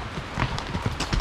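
Horse hooves clip-clop at a steady walking rhythm during a trail ride in the Pyrenees, with several firm, closely spaced strikes in a short burst.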